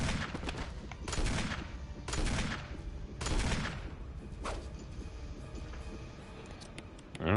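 Heavy weapons fire in Resident Evil Remake: about three loud, booming shots spaced roughly a second apart, each with a long rumbling tail, followed by quieter clatter and a last thump.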